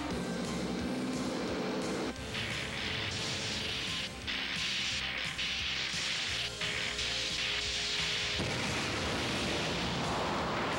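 A dense, roaring planet explosion in an animated series, with crashing debris and rumbling blasts that fill the whole stretch, loud and continuous with sharp shifts in texture.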